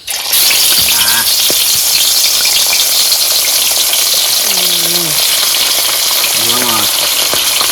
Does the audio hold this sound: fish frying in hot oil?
yes